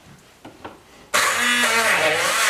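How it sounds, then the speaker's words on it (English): Hand blender blending chestnut puree in a kitchen, starting abruptly after a few faint clatters and then whirring loud and steady with a high motor whine. "I have my hand blender, but you can use as well a kitchen blender."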